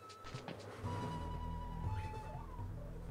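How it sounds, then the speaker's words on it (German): Cat meowing in a Shenmue 2 game scene after the cat falls into a cardboard box, a few thin drawn-out mews over steady low game background sound, moderately close. "Katze ist mal wieder in den Karton gefallen."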